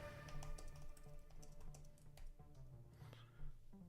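Quiet keyboard typing during a live trading stream, a light run of soft key taps sitting faintly under steady music with sustained tones.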